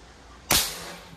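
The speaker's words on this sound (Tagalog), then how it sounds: "Okay, and firing" A Crosman Magfire Ultra .177 break-barrel air rifle fires a single sharp crack that decays quickly, close and loud against a quiet background.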